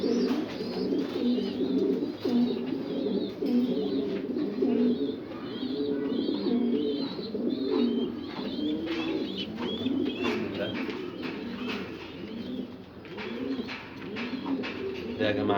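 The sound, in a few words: pigeons cooing while being handled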